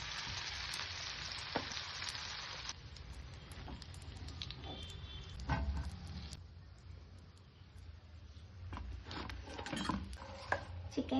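Chicken cheese spring rolls frying in hot oil, a steady close sizzle with crackling pops and occasional stirring clinks throughout.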